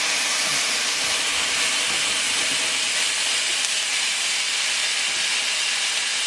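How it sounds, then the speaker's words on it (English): Hot dogs sizzle in a pan on a camping stove with a steady, loud hiss that holds evenly for several seconds. "Oh, I hear that sizzling already"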